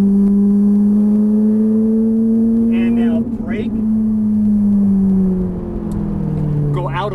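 A Ferrari 458 Italia engine drones loudly from inside the car on a race track, holding a strong steady tone before easing off and rising again while an instructor talks over it.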